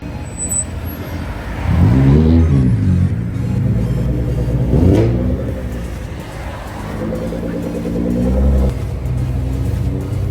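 A Liberty Walk-modified car cruises past at Tokyo Auto Salon, its engine rising in a couple of loud revving swells over a steady rumble of crowd and traffic noise.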